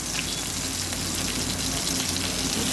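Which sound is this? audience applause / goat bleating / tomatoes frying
tomatoes frying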